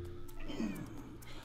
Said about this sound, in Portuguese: Deixa o gato.